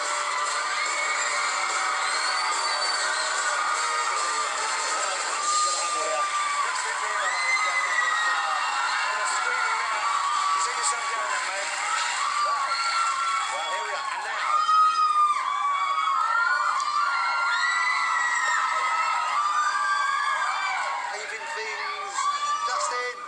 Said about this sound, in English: The screaming, how do you deal with the screaming?